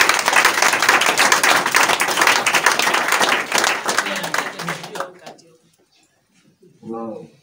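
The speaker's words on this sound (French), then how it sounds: "est-ce qu'on peut acclamer Jésus?" A church congregation at a French-speaking worship service bursts into loud, dense clapping and cheering for several seconds, fading out into near silence before a voice speaks briefly.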